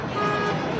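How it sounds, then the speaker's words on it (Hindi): Ambulance siren horn fitted to a motorbike in Lahore traffic, a loud steady electronic tone sounding close and continuous for under a second. "इसने एम्बुलेंस का हॉर्न लगाया हुआ है।"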